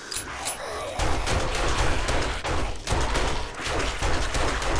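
Gunfire in the video game 7 Days to Die as a player shoots at rad bikers: dense, loud bursts of rapid shots filling most of the clip, briefly pausing between volleys, with a voice speaking faintly underneath.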